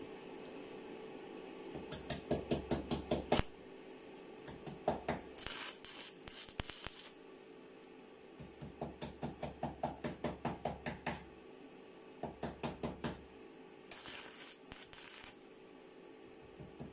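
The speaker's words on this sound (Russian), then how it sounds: "Вот таким вот образом проводится сварка." Spot welding on car sill panels gives repeated bursts of sharp, rapid crackling pulses, each lasting a second or two and separated by short pauses, close and fairly loud against a quiet workshop hum.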